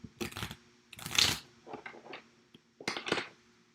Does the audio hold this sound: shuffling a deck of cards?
yes